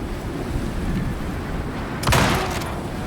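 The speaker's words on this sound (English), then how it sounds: "the storm's technically already here" A storm rolls in within a video game: steady roaring wind and crashing waves, with a louder rumbling burst of thunder partway through, no voices.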